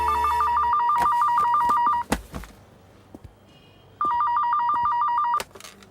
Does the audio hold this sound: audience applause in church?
no